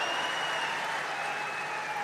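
A crowd claps at a public birth-anniversary celebration for Ahilyadevi Holkar at Chondi, Ahmednagar: a dense, steady patter of applause heard from a moderate distance.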